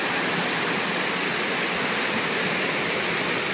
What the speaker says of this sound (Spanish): aquí lo que es la parte de arriba de la cascada